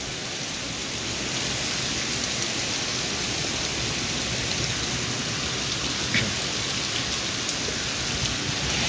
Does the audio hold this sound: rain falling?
yes